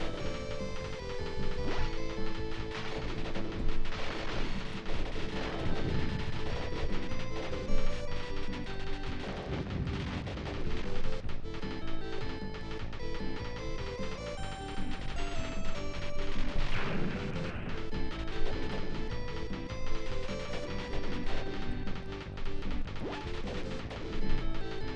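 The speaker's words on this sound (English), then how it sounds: "I'll go ahead and just keep rolling with the auto fire" Rapid auto fire rattles continuously through a PS1/PS2 shoot-'em-up, a dense barrage of crashing, popping shots mixed with game music that stays loud and busy without a break.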